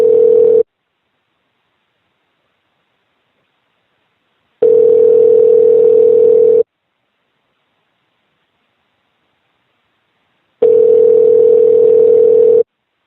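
A telephone ringback tone sounds during a call, three loud steady two-second tones with about four seconds of silence between them, alone on the line.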